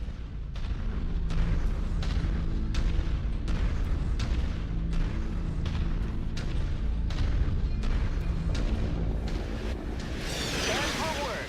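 Artillery in MechWarrior 5: Mercenaries pounds steadily in a rhythmic run of heavy booms over a low rumble, with a burst of louder explosive noise at the end and a voice speaking throughout.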